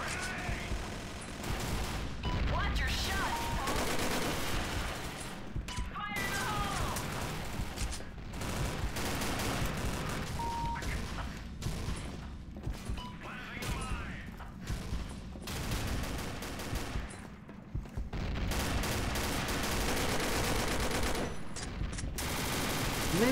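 Dense, sustained gunfire in Combat Arms Reloaded: rapid automatic bursts and single shots repeat with brief gaps across the whole stretch, loud and close, with occasional faint voices beneath.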